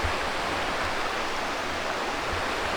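A stream along the Appalachian Trail near Laurel Falls rushes steadily, a broad continuous wash of flowing water heard alone without talking.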